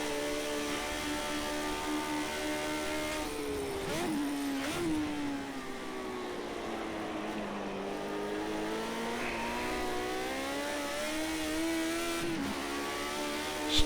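A Lotus 72D race car engine at Silverstone in Project CARS 2 drones loudly and steadily, its pitch dropping in stepped falls as it shifts down through the gears, with short blips between shifts and no talking.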